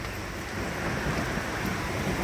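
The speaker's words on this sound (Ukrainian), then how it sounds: "дощ страшенний вже починається" Heavy rain begins pouring outdoors in mountainous Turkey, a dense, steady hiss of downpour that stays loud and unbroken throughout, with no voices.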